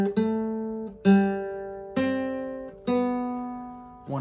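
A guitar picks out the opening phrase of the Happy Birthday melody, five clear plucked notes at a slow, even pace, each ringing and decaying before the next, played alone in a quiet room.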